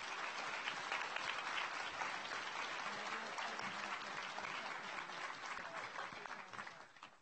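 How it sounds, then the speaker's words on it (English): An audience claps for a panel at a March 2019 president's update meeting, dense steady applause throughout that slowly thins and fades out at the end. "Would you please join me in giving our panel a big round of applause and thank you."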